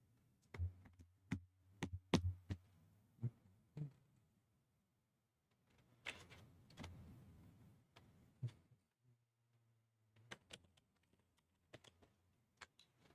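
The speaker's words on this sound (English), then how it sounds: "You can hear me typing" Keys on a computer keyboard tap in quick irregular bursts with pauses between them, close and fairly faint, with soft clicks and a low hum in the background.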